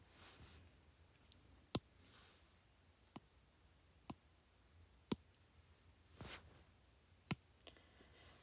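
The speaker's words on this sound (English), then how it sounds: "Sorry to start clicking everywhere." Computer mouse clicks sound as sharp, isolated taps, faint and irregularly spaced, against a quiet room with no talk.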